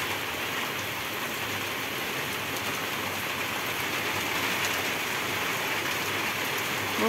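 Heavy rain pours steadily during a long, fierce thunderstorm, a dense, even hiss with no breaks and no voices.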